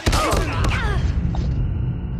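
Video-game gunfire with a grenade thrown gives a sharp burst of shots at the start and fading booms behind, while a voice talks excitedly over it.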